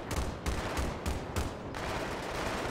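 Rapid bursts of enemy gunfire in a multiplayer shooter match on the Azadi Palace map, several heavy volleys in quick succession, loud and close, then a steadier rattling din.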